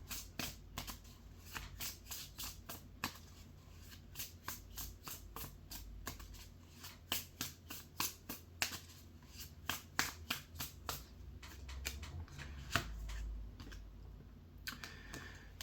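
Tarot-style playing cards are shuffled and dealt, a rapid run of crisp riffling snaps and soft slaps, close and quiet, with no talk over them.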